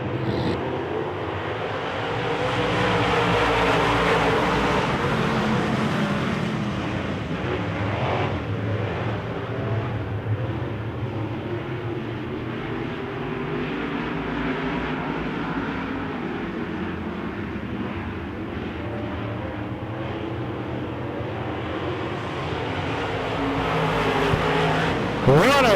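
Wissota modified race cars roar around a dirt oval in a heat race, a steady dense engine drone with cars passing through the corners, loud and continuous throughout.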